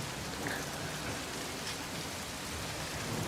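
Rain falling in a film scene, a steady dense hiss of drops pouring down with no break and no voices.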